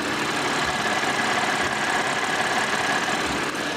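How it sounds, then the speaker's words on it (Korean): Audi gasoline car engine idling with the bonnet open, a steady, fairly quiet smooth hum recorded close up, with no talking. "제가 엔진 소음을 담기 위해 본네트를 한번 열어봤는데요. 영상으로 엔진 소음 한번 담아보도록 하겠습니다."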